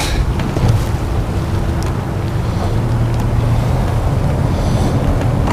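Steady wind buffeting a boat on open water while fishing, a loud continuous roar and rumble with no pauses.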